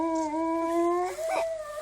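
Timber wolves howl in a long, sustained chorus, several steady drawn-out tones overlapping and shifting pitch near the end, loud and continuous without talk.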